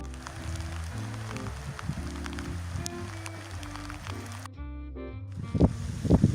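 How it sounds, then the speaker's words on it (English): Steady rain falls on a surface, a continuous patter with scattered drops, outdoors during an evening wedding party, with brief bursts of louder sound near the end. "It is raining."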